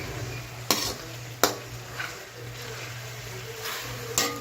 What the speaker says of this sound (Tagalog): Yan, igigisa-gisa lang natin ang ating chicken.